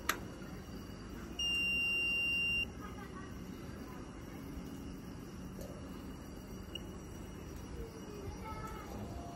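A satellite signal meter beeps while an Astro Njoi dish is being aligned, giving one sustained electronic tone lasting about a second, with faint background hum and a few light clicks.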